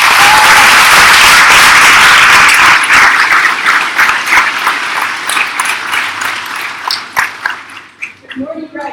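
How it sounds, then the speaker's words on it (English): Loud audience applause greets a speaker at an elementary school graduation, a dense wash of clapping that holds strong for several seconds, then thins into scattered claps as it dies away at the end. "Let's give her a round of applause."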